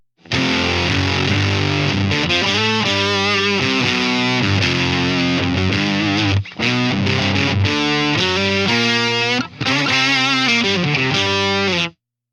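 Electric guitar with thick fuzz distortion plays a sustained riff, loud and saturated throughout, with two brief gaps before ringing out and stopping.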